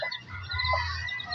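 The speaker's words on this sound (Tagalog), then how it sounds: "O yan o, cobra chicken." A small bantam-type "cobra chicken" clucks briefly over a low rumbling background, a couple of short squawky calls close by.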